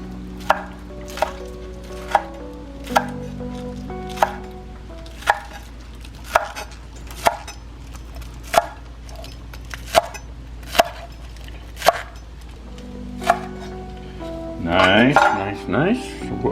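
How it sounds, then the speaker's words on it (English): A knife chops scallion on a board in sharp single strikes about once a second under a low kitchen hum, finishing with a burst of clattering and rustling. "I'm going to cut up a little bit of scallion."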